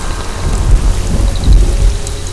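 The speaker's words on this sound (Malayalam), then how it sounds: "നന്നായിട്ട് ഇടിയും വെട്ടുന്നുണ്ട്." A heavy thunderstorm during a power outage: loud low rumbling thunder rolls over dense pouring rain, close and continuous for a couple of seconds, with no voices.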